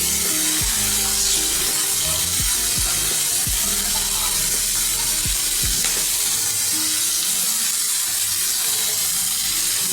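Onion, ginger and garlic sauté in a pan with a steady, dense sizzle. A few soft knocks from stirring sound underneath, and nobody talks.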